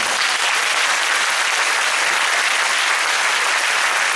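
A church congregation claps joyfully together, loud, dense and steady applause filling the hall without a break.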